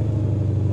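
Low, steady rumble from the supercharged V8 of a Ford Mustang Shelby GT500 with 771 horsepower, idling or running gently nearby at moderate volume, brief and with no voices.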